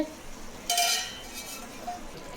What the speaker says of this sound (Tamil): இதில் பாஸ்தாவை எடுத்து போட்டு அப்படியே மிக்ஸ் பண்ணலாம்